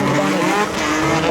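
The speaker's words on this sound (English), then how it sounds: "as we get deafened here with the sound of roaring engines" Loud, close roar of drift car engines at a Red Bull drifting event on Spike Island, Ireland, with tyres squealing as the cars slide past in a dense, continuous wall of noise.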